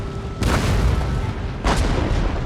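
Cannon volleys in the Napoleonic-era strategy game Empire: Total War, two deep booming blasts about a second apart, each a broad loud thump with a rumbling tail over continuous battlefield din.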